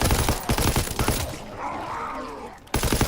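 Rapid, loud bursts of gunfire from CoD: WWII Zombies, dense shots at the start, then a short lull of muffled game sounds, and firing resumes at the end.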